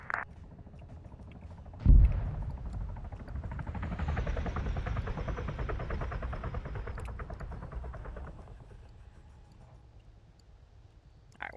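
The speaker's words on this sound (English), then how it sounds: "A Chinook coming from the north," A Chinook helicopter in a military video game: a heavy thump, then a loud, steady rotor roar that holds for several seconds before slowly fading, with no talking.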